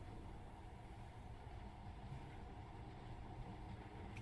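A monorail train runs in the video game Metro Last Light Redux, a steady, continuous low rumble and rolling drone that holds at an even level throughout with no talk over it.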